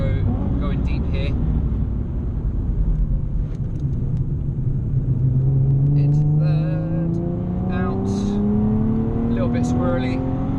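Inside a Nissan 370Z Nismo on a Spa-Francorchamps track day, the engine roars at full throttle, its loud drone climbing steadily in pitch, while a voice talks over it.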